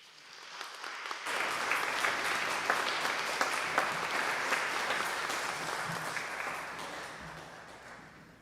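A congregation at a young adult retreat service bursts into sustained applause after a quiet start, dense clapping holding steady for several seconds before tapering slightly toward the end.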